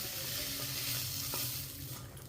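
Chopped tomatoes fry and soften in a pan for chicken kulambu, giving a steady, fairly quiet hiss and sizzle with faint stirring scrapes and no talking.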